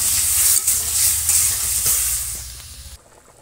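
Spices frying in oil in a pan sizzle loudly and steadily while being stirred, then the hiss drops off sharply near the end as water goes in, with no voices.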